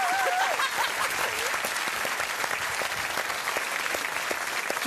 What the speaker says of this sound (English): Big applause to everyone!